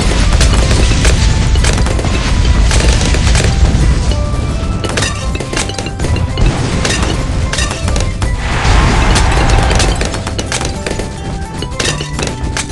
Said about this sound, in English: Fire bomb!